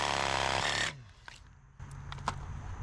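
A power tool cuts through a drainage pipe during a yard drainage repair. A loud, dense buzzing cut runs for nearly a second and stops abruptly, followed by quieter clatter and handling knocks.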